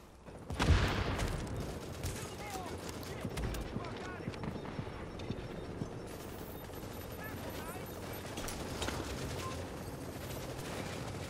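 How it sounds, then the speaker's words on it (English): Small arms gunfire in the video game The Division, with a loud burst near the start followed by continuous scattered shots and rattling under game noise. "Small arms fire."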